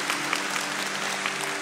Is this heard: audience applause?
yes